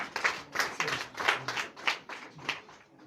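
A church congregation at a Sunday worship service in Comè, Benin, claps in steady unison acclamation, about eight rhythmic bursts roughly a third of a second apart, moderately loud and close.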